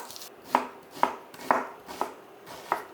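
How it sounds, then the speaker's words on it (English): A knife chops an onion on a board in a home kitchen, giving five crisp, evenly spaced thuds, close and clear, with no talking. "So while I'm waiting for the pan, I'll just chop my onion."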